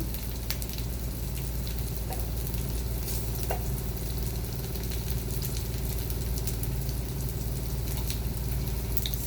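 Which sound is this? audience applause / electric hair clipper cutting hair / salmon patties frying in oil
salmon patties frying in oil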